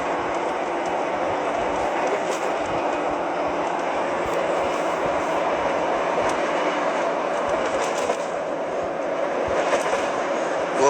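A train runs along a rail line in Jakarta, a loud continuous rumble and rattle of railcars that holds steady close by, with faint clicks and a brief swell near the end.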